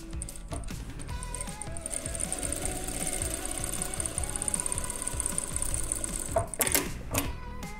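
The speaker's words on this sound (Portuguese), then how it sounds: "Então eu vou fazer uma costura, um tubo." Sewing machine running steadily as it stitches a fabric tube, a continuous close, busy mechanical whirr with rapid needle clatter, briefly pausing and restarting near the end.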